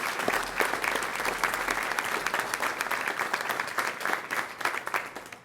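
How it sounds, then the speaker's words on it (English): Audience applause at a civic gathering for a compassionate-city effort in Louisville, many hands clapping in a sustained, fairly even patter that thins slightly toward the end, with no talk over it. "let's give a big hand of applause to all these unsung heroes along with our leaders here"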